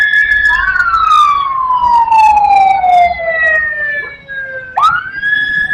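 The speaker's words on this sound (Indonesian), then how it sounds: "Ada ambulan dulu ya, kita menepi dulu." An ambulance siren wails loudly on the road, its tone gliding steadily downward as it passes close by, then restarting with a sharp rising whoop near the end, over a low rumble of traffic.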